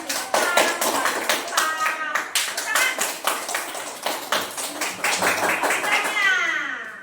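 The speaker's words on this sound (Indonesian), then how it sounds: "Oke, kasih tepuk tangan." Classmates clap for a student group in a classroom, a rhythmic run of sharp, close handclaps with children's voices and chatter mixed in throughout.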